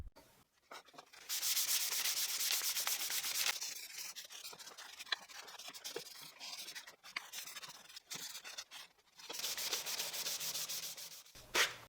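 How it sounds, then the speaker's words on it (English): Steady scratchy rasping of 320-grit sandpaper rubbed by hand over wood, in long sustained passes with brief pauses between strokes, close and fairly loud. "The manual sanding will start with 320 grit paper and then with a finer one."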